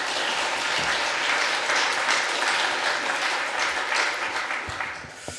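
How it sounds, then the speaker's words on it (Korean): Church congregation clapping together in a large hall, a full, sustained round of applause that stays steady for several seconds before tapering slightly at the end. "박수 하시겠습니다."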